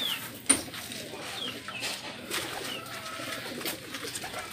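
Racing pigeons coo softly in a loft after a club training race, low murmuring calls with a sharp knock early on and faint rustling between.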